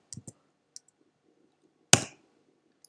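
Sharp keyboard clicks while coding: a few light taps early on, then one louder clack, each short and crisp against near silence.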